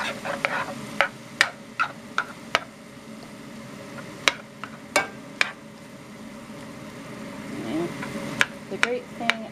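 Ground rabbit meat cooks in a pan with a soft, low sizzle, as sharp spoon scrapes and knocks come in short clusters and quieter stretches lie between them.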